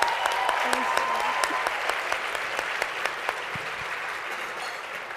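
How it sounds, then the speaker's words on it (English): A lunch audience at a remarks event gives sustained applause, a steady wash of many hands clapping with a few sharper individual claps standing out and brief faint voices underneath. "So please join me in giving Jade a round of applause"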